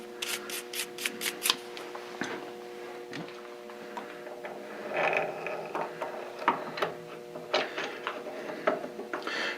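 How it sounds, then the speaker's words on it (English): A brush sweeping grease and chips from the cross feed gear teeth of a South Bend lathe; quiet, close bristle scrubbing in short rapid strokes at first, then irregular rubbing passes over a faint steady hum. "Notice I'm sweeping away from the bearings, brushing away from the bearings."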